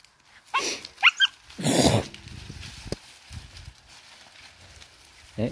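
Native Vietnamese hunting dogs running through a forest, with a few sharp close yelps and barks in the first two seconds, then quieter rustling and footfalls.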